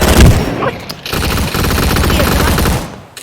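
Gunfire from a rifle called an AK in the Roblox video game, with dense, rapid shots running almost continuously as one loud, sustained burst, broken by a brief gap near the start.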